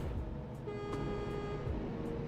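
A steady truck horn tone blares over a continuous low engine rumble in a trucking video game, sustained for most of the clip.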